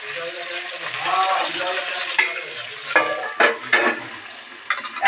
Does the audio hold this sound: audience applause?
no